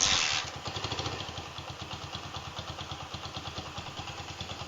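A motorcycle fitted with an imitation CDI ignition unit idles smoothly after a brief louder start, its engine ticking in an even, rapid pulsing rhythm close to the microphone with no talking.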